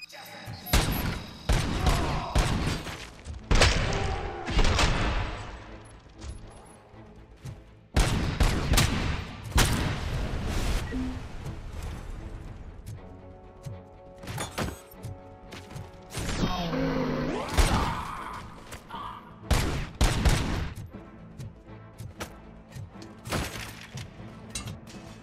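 Grenades exploding amid gunfire in the video game Robocop: Rogue City: repeated loud blasts and crashes mixed with bursts of shots and mechanical clanks, close and chaotic, with brief quiet gaps between volleys.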